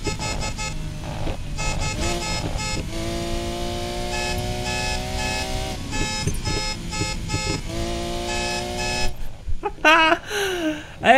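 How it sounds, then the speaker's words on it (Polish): Loud electronic car horn honks from a Lamborghini Aventador in the racing game Need for Speed Payback repeat at shifting pitches over a steady engine drone, ending with a few sharp, rising tones. "Jak to jest, że jak dodajesz gazu, to masz inny dźwięk klaksonu?"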